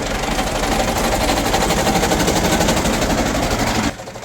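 A tractor engine with a mechanical fault runs close and loud in a rapid, rattling knock for nearly four seconds before cutting off abruptly.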